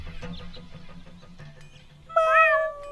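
A kitten meows in the Deponia video game, a bright, loud, slightly rising cry near the end, following a stretch of softer cartoonish voices and background game sounds.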